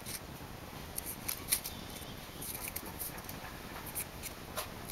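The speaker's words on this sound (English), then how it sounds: "cut half an inch wide and 6 centimeters long piece of cardboard from my like a cereal box" Scissors snipping through thin cereal-box cardboard, cutting a narrow strip about half an inch wide and six centimeters long; soft, close crisp snips in a quiet room, with no voices.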